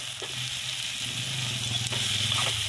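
Potatoes fry in a pan with fish and khutura greens, giving a steady, moderately quiet sizzle with faint stirring touches and no voices.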